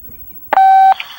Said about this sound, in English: A beeping noise will indicate when you are on the show with the host.